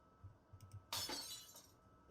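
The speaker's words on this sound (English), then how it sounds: "The sound of glass shattering rents through the air as soon as her hold on it loosens." A glass slips from a hand and shatters in one sharp, fairly quiet crash midway through, followed by a brief tinkling tail of falling shards.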